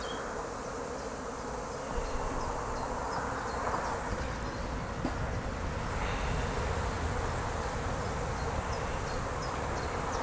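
A swarm of Dark Nordic honey bees buzzes continuously, a dense, even drone close by with no pause, while a few individual bees rise and fade in the mix.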